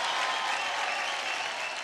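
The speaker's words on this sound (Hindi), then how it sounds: "एक बार इनकी खूबसूरती के लिए तालियां" Studio audience applause on an Indian TV singing show, a dense, even roar of clapping that stays loud and unbroken throughout the short stretch.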